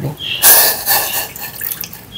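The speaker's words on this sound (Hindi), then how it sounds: "तकरीबन आधा कप पानी डाल के" About half a cup of water poured into a pan while making fruit chaat, a short splashing, trickling pour close by, loudest early then tapering off.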